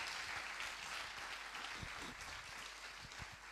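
A church congregation at a Sunday service claps steadily in acclaim, a dense wash of applause from many hands filling the room for a few seconds.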